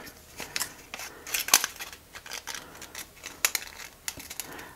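Scissors snip through paper, cutting out shapes for a handmade paper iris flower, with several crisp close cuts in an irregular rhythm and no talking.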